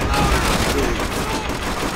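A trench gun in Call of Duty World at War fires amid a dense, continuous clatter of gunfire, loud and close, with a voice briefly heard over the shooting.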